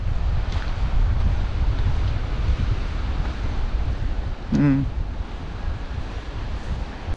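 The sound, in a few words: sea waves and wind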